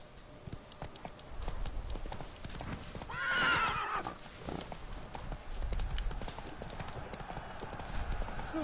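Roach, Geralt's horse in The Witcher 3: Blood and Wine, clip-clops in a steady gallop with a loud whinny partway through, hooves continuing afterward over a faint background.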